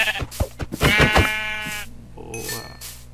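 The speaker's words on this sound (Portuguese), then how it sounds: "Estamos falando agora das ovelhas. As ovelhas já tá ali, ó." Several bleats from sheep in the Minecraft survival game, a few short calls leading into one long wavering bleat, loud and close, followed by a fainter chime-like tone.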